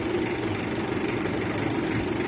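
A motorcycle engine idles steadily, a low, even mechanical hum with a slight rumble and no revving, heard up close for a couple of seconds with no talking.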